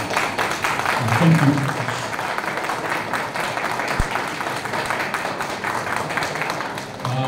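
Audience clapping at a gubernatorial candidates' debate in Bauchi, a scattered patter of hands heard in a large room while a voice talks over it.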